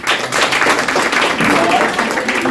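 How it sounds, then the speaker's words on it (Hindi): A room of nursery and kindergarten teachers at a home tutor training seminar applauds themselves, a dense, sustained burst of clapping from many hands that fills the whole moment at close range. "अपने लिए एक बार ताली बजा लीजिए."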